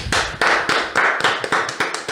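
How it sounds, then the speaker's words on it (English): Brisk, close hand clapping with several sharp bursts in quick succession, loud and steady with no talking. "Round of applause for us"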